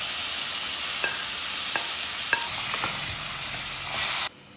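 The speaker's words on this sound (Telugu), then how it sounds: "ముందుగా ఆయిల్ వేసుకున్నాం కదా, ఈ మటన్ వేపిస్తాం దీనిలో." Mutton sizzling steadily in hot oil in a pan, a constant bright hiss with a few sharp clinks of stirring, then cutting off abruptly near the end.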